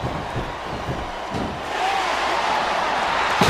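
A wrestler slams an opponent down onto the ring mat in a wrestling match, giving a dull thud over a loud, steady crowd roar that swells midway.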